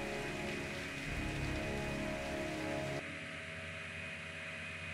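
Steady, dense rainfall from the video game Heavy Rain, a constant hiss of drops on surfaces that runs loud and unbroken before dropping slightly in level partway through, with no voices.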